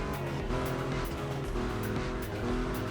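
An Aston Martin in the racing game The Crew Motorfest drives hard with a loud, continuous engine roar, its pitch rising and falling through gear changes as it grips the road through corners.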